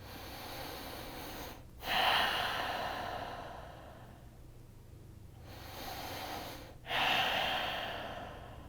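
Slow, deep breathing during a yoga session, two long audible exhales about five seconds apart with quiet inhales between, close and alone.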